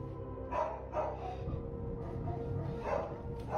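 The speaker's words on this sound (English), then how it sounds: "One night, the family dogs start going nuts" Family dogs bark at night, several sharp barks spaced through the clip, somewhat distant over a low background rumble, with no speech.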